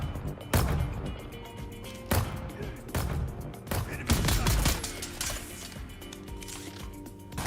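Cannon fire in the PC video game Dune: several heavy, booming shots arrive at irregular intervals, loud and close, with game rumble continuing between the blasts.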